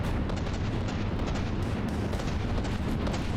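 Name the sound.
cram cannon shots firing in From the Depths video game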